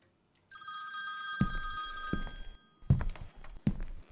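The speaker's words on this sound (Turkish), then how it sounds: "Telefon çalıyor." An old-style telephone bell rings in bursts in the horror game Morgue Assistant, set in a morgue, with loud thuds and footsteps breaking in between the rings.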